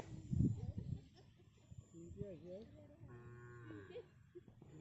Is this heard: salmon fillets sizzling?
no